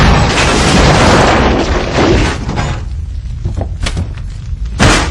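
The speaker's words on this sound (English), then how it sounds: "Explosions are awesome, but they just don't seem to have as big a threat in movies." A movie explosion opens with a loud, roaring boom that fades into crackling debris, followed by a sharp final burst.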